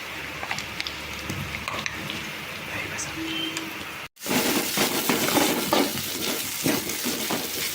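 Onions and green chillies are sautéed in a pan for chickpea sundal, first as a faint sizzle under a person talking, then as a louder, denser crackle after a brief cut.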